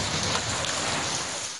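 Heavy rain falls in Juiz de Fora, Minas Gerais, as a dense, steady hiss that stays constant throughout without a break.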